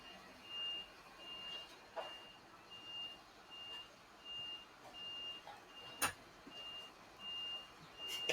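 A garbage truck's reversing alarm beeps in a steady, evenly spaced pattern at moderate distance, with a few sharp clicks and knocks in between.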